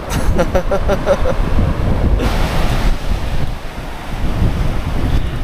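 Wind buffets the microphone by the ocean, with waves washing in the background and a brief murmur of voices.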